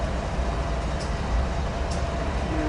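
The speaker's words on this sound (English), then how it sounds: "I think it's going into Hobart. Yep, there it is. Could be a Q or a Z train." A freight train rumbles past as a steady broadband roar of wheels and rail noise, constant and fairly near, with no voices.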